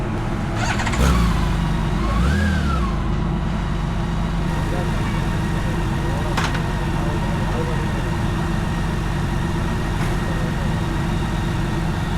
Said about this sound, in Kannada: ರಿವರ್ಸ್ ಗೇರ್ ಹಾಕ್ಕೊಂಡು ಹಿಂದೆ ಹೋಗ್ತಾ ಇರೋದು ಈ ಗಾಡಿಯಲ್ಲಿ ರಿವರ್ಸ್ ಗೇರ್ ಇದೆ